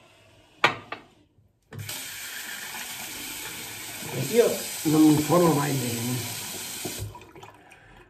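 Water runs from a tap into a sink during a shaving routine with patchouli products, a steady broad rush lasting several seconds while someone talks over it.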